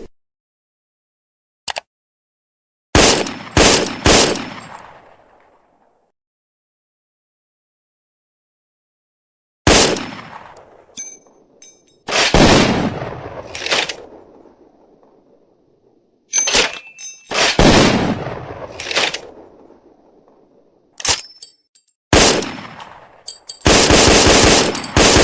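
An FN FAL rifle firing in loud, close bursts and single shots, sharp cracks separated by silences and echoing tails, with several rapid volleys toward the end.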